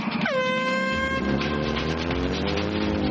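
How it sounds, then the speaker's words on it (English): A loud hooter blares once to start an ice race at a rink, a single bright horn blast of about a second whose tone rings on against a noisy arena background. "on the sound of the hooter, slice the ice"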